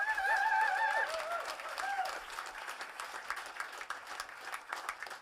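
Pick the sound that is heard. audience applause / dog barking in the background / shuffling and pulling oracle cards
audience applause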